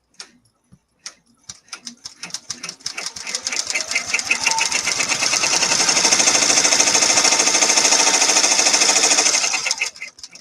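Embroidery machine stitching an in-the-hoop craft project, starting with a few sparse ticks, then settling into a loud, steady, rapid mechanical stitching rhythm that runs for several seconds before stopping abruptly.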